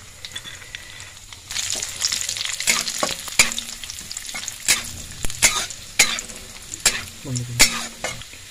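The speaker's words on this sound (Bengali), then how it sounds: "এবার তেলের মধ্যে অ্যাড করে দিচ্ছি কিশমিশ, একসাথে রয়েছে। আর রয়েছে কাজু, কাজুটাও আমরা তেলের মধ্যে অ্যাড করে দেবো।" Cashews and raisins fry together in hot oil, a close, steady sizzle broken by repeated scraping stirs and sharp spatula clicks against the pan.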